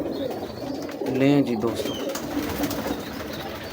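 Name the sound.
breeder pigeons cooing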